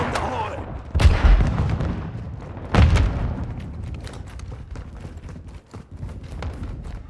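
Two heavy grenade blasts in Call of Duty Modern Warfare 2 multiplayer gameplay, the first near one second and the second near three seconds. Each is a loud, booming burst that fades into a steady clatter of gunfire and battle noise.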